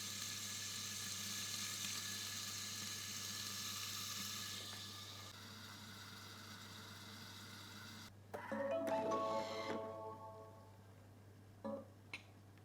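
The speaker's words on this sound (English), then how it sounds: "Listen to that sizzle, like bacon would sound in a pan." Bacon sizzles and crackles quietly inside a Thermomix bowl on high heat, a soft steady hiss with faint pops, followed by a brief louder burst of clattering and stirring.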